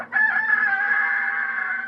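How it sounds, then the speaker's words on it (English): A rooster crows once, a loud, close, drawn-out cock-a-doodle-doo that fills the whole short moment. "they'd hear a rooster crow."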